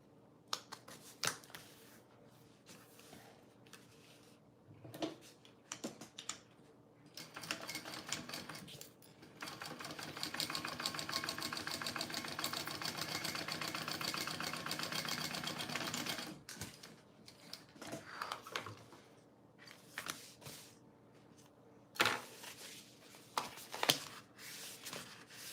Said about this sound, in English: Okay, I'm going to sew these together along the top.